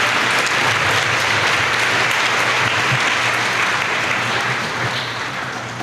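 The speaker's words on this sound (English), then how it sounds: "Let's give a round of applause to our basket weavers." An audience at the Ms. Tohono O'odham Nation Pageant gives basket weavers a round of applause: steady, dense clapping that stays loud throughout and eases slightly at the end.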